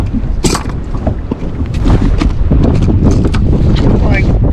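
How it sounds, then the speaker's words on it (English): Strong wind buffets the microphone on the water during fall bass fishing from a boat, a continuous rumbling roar with creaks and knocks, while someone talks over it. "It is really windy out here,"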